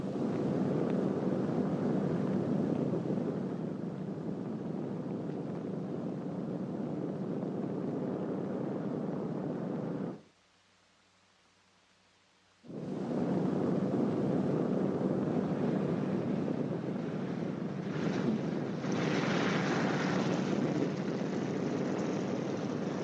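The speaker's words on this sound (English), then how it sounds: "When you touch the ground, the plane should be slightly tail low and going between 95 and 100 miles per hour." A B-29 bomber landing, a loud, continuous, wind-swept roar of engines and rushing air that drops into a short silent gap and then resumes at full strength.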